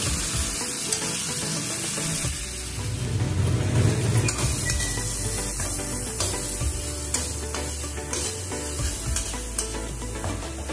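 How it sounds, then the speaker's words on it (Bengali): Spice paste with ginger and tomatoes frying in a pan for a Bengali potato and pointed gourd curry, a loud continuous sizzle with scraping stirs throughout. "মশলাটা ভালো করে কষাবো, যতক্ষণ না টমেটোগুলো ভালো করে মিশে যাচ্ছে।"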